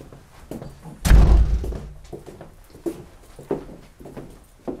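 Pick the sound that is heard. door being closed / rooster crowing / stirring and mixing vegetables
door being closed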